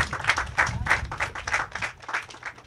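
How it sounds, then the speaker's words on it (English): A small audience at an agriculture department's aquaponics system commissioning gives a brief round of applause, with distinct rhythmic hand claps close by, steady and moderately loud throughout. "Give them one applause for me, please."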